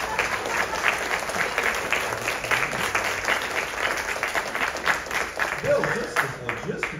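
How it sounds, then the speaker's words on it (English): Warm audience applause at a ragtime concert in Conroe, steady clapping from a modest crowd filling several seconds, with individual claps distinct and a few voices mixed in. "Let's have a round of applause for Bill."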